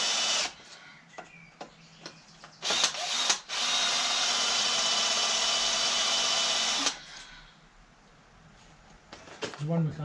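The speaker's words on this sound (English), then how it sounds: "then take it over to the drill press." A drill press whirs drilling into a metal car prop shaft in a steady, loud run of about three seconds, preceded by short bursts and followed by clattering handling noises.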